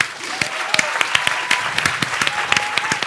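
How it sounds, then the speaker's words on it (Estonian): A crowd gives loud, sustained applause for party leaders at the close of a political debate at an opinion festival, with dense clapping and sharp individual claps standing out throughout. "debatis osalejad väärivad veel ühe marulise ja tunnustava aplausi"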